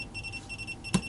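SEC E9 key cutting machine beeping in short, repeated high-pitched pulses, fairly quiet against a steady background hum, with a brief click near the end.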